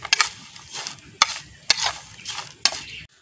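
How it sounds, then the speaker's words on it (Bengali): A utensil stirs and tosses fried potato chanachur with salt in a pan, several sharp scraping strokes spaced irregularly between quieter rustling, close and alone. "ভালো করে আমি মিক্সড করে নিচ্ছি।"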